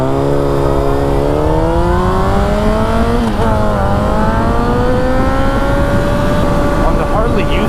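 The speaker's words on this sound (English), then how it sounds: "this bike, the CBR, obviously accelerates a lot faster" Honda CBR sport bike engine pulling hard, a loud steady whine whose pitch climbs smoothly through the gear, with a brief dip and shift partway before rising again, heard up close.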